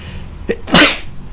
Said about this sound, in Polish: Musiałem sobie kichnąć.